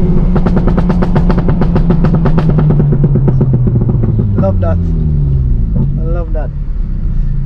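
Honda Civic Type R FK8 exhaust burbling close by, a loud, steady rumble that drops in pitch as the revs fall, with a couple of sharp pops near the end, alongside talk.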